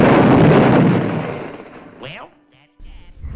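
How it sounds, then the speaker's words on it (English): A cartoon explosion from a Bugs Bunny WWII cartoon blows up soldiers: a loud, close blast that rumbles and fades over about two seconds, then a short whistle and brief cartoon sound effects. "feeding them grenade-filled ice cream and blows them all up"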